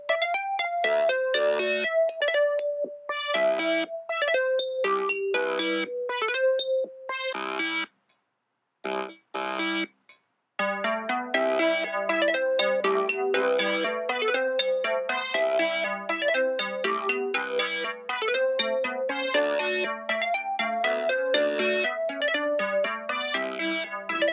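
A fast, bright synth-like song riff with rapid sped-up trilling notes loops continuously, cutting out briefly for a couple of short gaps before resuming.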